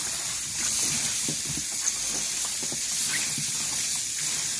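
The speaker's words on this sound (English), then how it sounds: "So next, you'll want to rinse the napa very well." Running water rinses a head of napa cabbage for kimchi, a steady close-up hiss and spray with soft sloshing underneath, continuous throughout with no one speaking.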